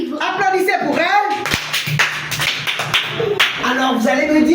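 Schoolchildren clap in a classroom, a short burst of patters under children's voices and chatter.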